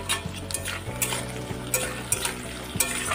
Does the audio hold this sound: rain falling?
no